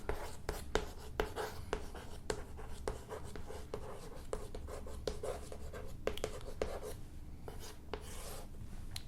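A name is written on a board, with quick repeated taps and scratchy strokes of the writing tool forming a steady scribbling rhythm, close but faint, while a teacher's voice is partly audible.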